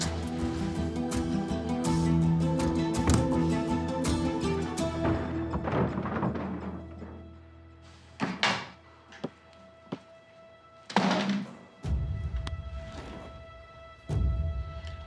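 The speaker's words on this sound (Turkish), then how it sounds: "Kapat kapıyı da." A door is shut indoors, making a couple of dull, separate thuds after music fades out in a quiet room.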